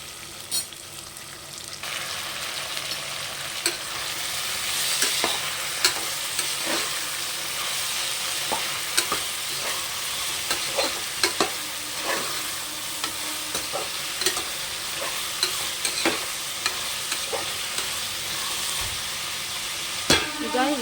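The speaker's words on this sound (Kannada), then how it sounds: "ಈಗ ಈ ತರಕಾರಿ ಎಲ್ಲ ಒಂದು 2 ಮಿನಿಟ್ಸ್ ಈ ಎಣ್ಣೆಲಿ ಫ್ರೈ ಆಗಬೇಕು." Mixed vegetables for a vegetable pulao fry in oil with a steady sizzle, while a spoon scrapes and knocks against the pan in frequent, irregular strokes as they are stirred.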